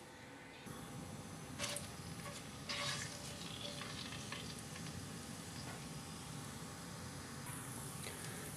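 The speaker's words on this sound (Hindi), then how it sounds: "ऑयल के साथ थोड़ा सा फ्राई करते हैं" Whole cumin, green and black cardamom and bay leaf frying in oil, giving a continuous soft sizzle with brief louder crackling bursts near the start, and faint talk in the background.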